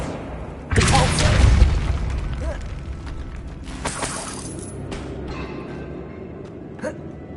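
A Depulso spell cast in Hogwarts Legacy on PS5: a loud sudden whooshing blast with a shattering crash and rumble, followed by quieter magical rustles and faint thumps fading out.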